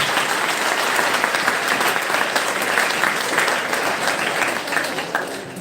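Students applaud their teachers at a counselling session for 9th and 10th graders, a dense, steady wall of clapping from a large audience that holds at full strength before easing slightly at the end.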